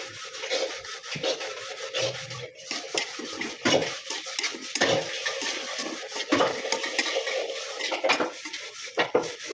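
A utensil stirs and scrapes onions frying with ginger-garlic paste in a pan, making irregular, fairly quiet scrapes, rubs and small metallic clatters without any speech.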